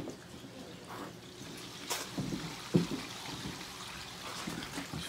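Toilet flushing in a basement bathroom, new installation on fresh drain piping, a quiet steady trickle and pour of water with one brief louder gurgle midway.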